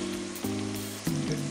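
Onions frying in a pan over moderate heat while cooking matar paneer, a steady broadband sizzle throughout with low humming tones, close and fairly even, no talking.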